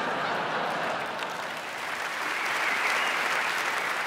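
Audience applause at a comedy show in Montreux, a steady wash of clapping from a large crowd that holds loud and even for about four seconds with no talk over it.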